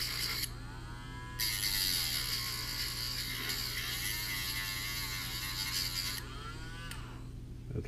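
Small rotary grinding tool working on a SMOK NORD vape pod, a steady high whine with wavering pitch as the bit bites and eases off, over a constant low electrical hum, close and fairly quiet with no speech.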